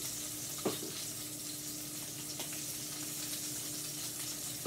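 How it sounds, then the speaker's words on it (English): Raw marinated shrimp cooking in the same pan as salmon, producing a soft, even sizzle throughout with a couple of faint clicks, heard alone at low volume. "just drop them in with the salmon and cook them in the same pan"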